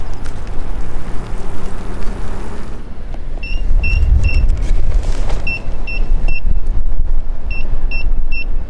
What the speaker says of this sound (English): you can hear the low battery beep